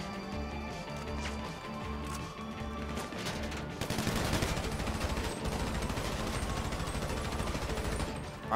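Rapid automatic gunfire from a GTA video game, dense bursts of shots layered over game engine and background noise, growing louder and more continuous in the second half.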